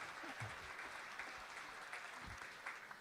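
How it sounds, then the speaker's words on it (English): Faint audience applause and light cheering continue steadily at a chess club's six-board simultaneous exhibition, a distant, even wash of clapping with no talk over it. "let me hear some cheering right now for this young man"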